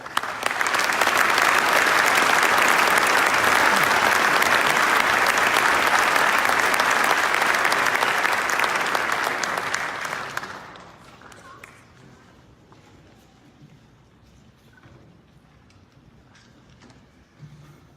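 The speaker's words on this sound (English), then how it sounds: "Let's give a round of applause to Mr. Scott Hall." Loud, sustained applause from an audience at a police department recognition ceremony fills about ten seconds, then drops away to quiet room tone with faint stirring.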